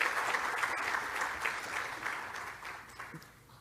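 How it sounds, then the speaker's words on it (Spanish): Applause for graduating students at a Catholic leadership school graduation in Guayaquil, an audience clapping steadily and fairly quietly, slowly tapering off toward the end. "un aplauso en primer lugar para ustedes por estar aquí"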